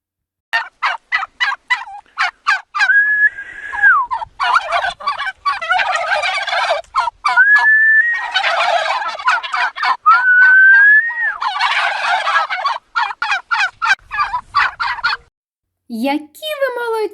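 A turkey gobbles repeatedly in rapid rattling bursts, loud and close, with short pauses between calls and a brief higher squawk at the end.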